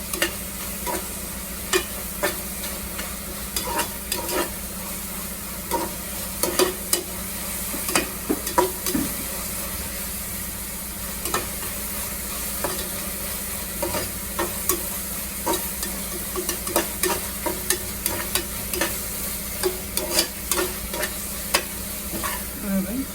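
Onions with salt frying on a medium flame for homestyle chicken biryani, a steady sizzle with frequent sharp spatula scrapes and taps against the pan, close and continuous without talk.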